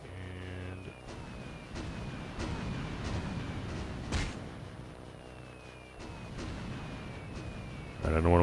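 Aircraft drop bombs during a bombing pass in the Xbox One game Aircraft Evolution, producing dull rumbling explosions over a steady engine drone, with one sharper blast near the middle.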